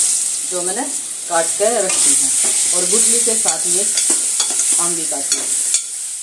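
Raw mango pieces with their stones fry in a pan with turmeric, coriander powder and red chilli, giving a steady bright sizzle that runs beneath continuous talking.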